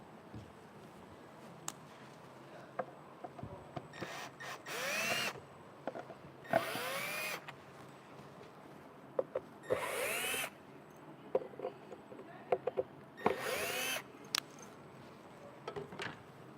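Power drill driving screws out of plywood in a workshop, four or five short whirring bursts of one to two seconds each separated by pauses, close but fairly quiet, with small clicks and handling knocks between them.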